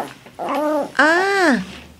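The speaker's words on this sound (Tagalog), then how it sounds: "Napan ko man impasyar ti imported nga aso." An imported pet dog gives two short whiny yelps or whimpers close by, the second longer and louder than the first, with no talk over them.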